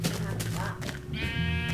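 Sheep in the Minecraft video game bleat in short, wavering cries over a player talking, with other game sounds mixed in.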